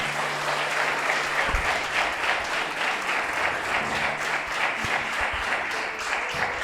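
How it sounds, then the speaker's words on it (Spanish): A church congregation applauds in a sustained, dense round of clapping that holds steady throughout, heard from within the room with a few low thumps underneath. "Den un fuerte aplauso al Señor."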